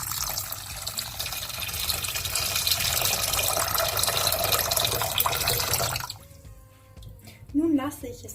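Water poured into a pot for sugar syrup, a sustained rushing splash that stops abruptly, followed by quieter handling sounds and a voice speaking.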